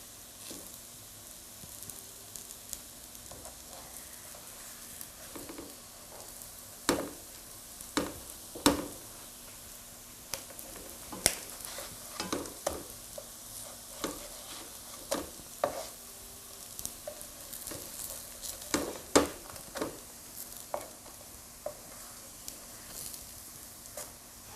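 Sweet corn fritters sizzle steadily in a pan, a soft continuous fry broken by sharp clicks and scrapes as they are turned.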